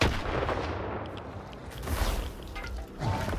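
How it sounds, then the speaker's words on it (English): Shotgun blasts and combat noise in the video game STALKER 2, with several sharp booming shots and crashing impacts in quick succession amid a dense, chaotic mix. "I put a freaking shotgun to his head"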